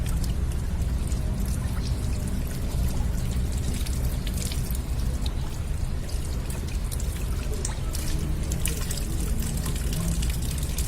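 Water pours and trickles steadily over legs and ankles during wudu ablution, a continuous close splashing stream with soft dripping throughout, no talking.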